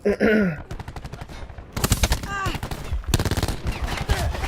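Rapid automatic gunfire from a Call of Duty: Black Ops 4 match comes in loud, dense bursts, broken by a short pause and mixed with grunting and gasping from the game.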